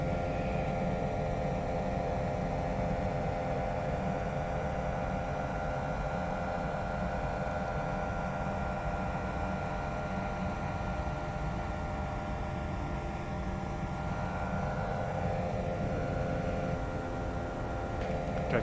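A steady A320 jet engine drone plays in a flight simulator cabin view behind the wing, a constant broadband hum with tonal whine, unchanging and moderately faint throughout.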